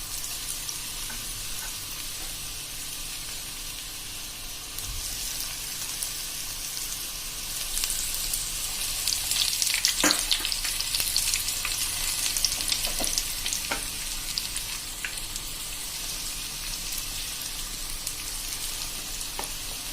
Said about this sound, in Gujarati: ભજીયા મૂકશું ને એટલી વાર જ આપણે ગેસની ફ્લેમ મીડિયમ રાખશું